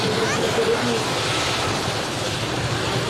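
A Mil Mi-24 military helicopter close by at Ivančice, giving a loud, continuous rotor and turbine roar that stays level across the clip while people talk nearby.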